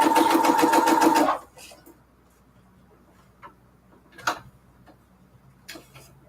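A sewing machine stitches junk journal pages in a fast, loud rhythmic burst for over a second, then stops, leaving a quiet room with a few faint clicks and taps.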